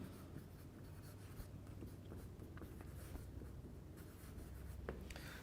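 Pen or marker scratching steadily across a board or page while a chemistry lecture is written out, a continuous close scribbling texture with small taps and strokes and no talking.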